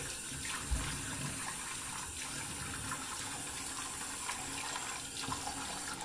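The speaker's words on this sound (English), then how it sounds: "First, let me get some water going here, guys." A bathroom tap runs steadily into a sink, filling water before shaving lather is worked up; a close, even, continuous gush with no talking.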